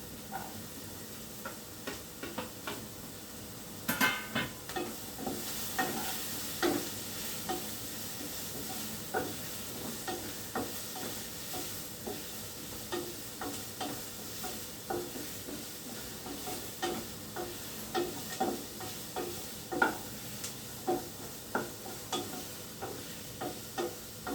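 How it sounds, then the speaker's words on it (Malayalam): Coconut pieces stir-frying in a pan for jackfruit thoran: a steady sizzle under repeated scraping, tapping stirring strokes, close and moderately loud, with no one speaking. "നമുക്ക് തേങ്ങാക്കൊത്ത് ഇട്ട് കൊടുക്കാം."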